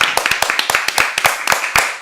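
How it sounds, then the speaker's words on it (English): An interview audience gives the guest a round of applause, a quick run of close, loud hand claps in a steady rhythm with no talk over it. "We gotta give her a big round of applause."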